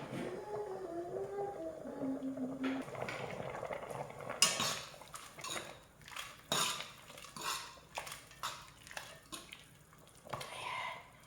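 Angel hair pasta stirred in a pot with oil and salt for carbonara, metal utensil scraping and clinking against the pot in repeated irregular strokes, close and fairly quiet, with brief speech early on.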